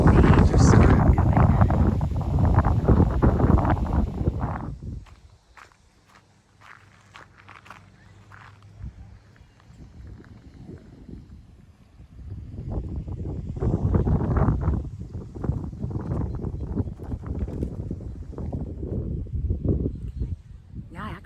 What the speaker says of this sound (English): It's getting all of a sudden quite windy, quite chilly, misty